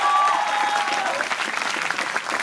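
Audience applause at a Hindi poetry recital (kavi sammelan), a sustained crowd of clapping hands that continues evenly for a couple of seconds, fairly loud and close.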